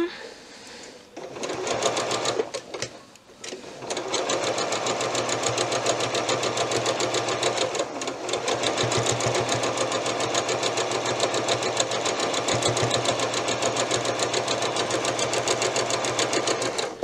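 Sewing machine stitching patchwork, a fast rapid rattle running nearly continuously after a brief start-stop, close and loud, with a voice speaking over it.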